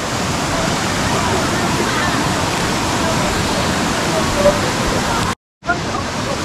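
Dalitiwan waterfall in Majayjay, Laguna roars as a loud, steady rush of falling water close by, with a brief cut near the end.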